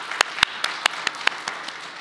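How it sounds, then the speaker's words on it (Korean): Handclaps from a small Korean church congregation in London during a Sunday baptism service: sparse, separate claps, about eight or nine sharp ones in two seconds, close and distinct rather than a full crowd roar. "다시 한 번 더 박수로 축복해 주시기 바랍니다"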